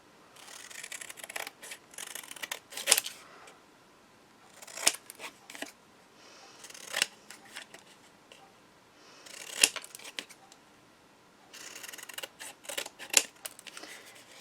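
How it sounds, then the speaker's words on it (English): Scissors cut through paper for a memory book in close, crisp snips, arriving in separate clusters with pauses between them, and no speech. "And then I'll cut them a bit more."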